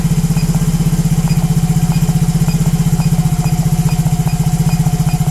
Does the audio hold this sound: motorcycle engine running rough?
yes